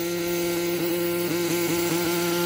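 Kyosho Mad Force RCX Edition nitro monster truck engine idling slightly too high, a steady, loud buzzing drone close by with small wavering pulses, no talking.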